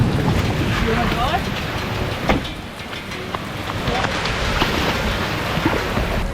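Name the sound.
torrent of floodwater rushing through a creek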